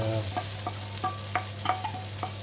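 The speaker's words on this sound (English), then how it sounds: "you only let the garlic fry for maybe a minute or so" Garlic fries in a pan with a steady, close sizzle, punctuated by a regular series of short spatula scrapes and taps, with no talking.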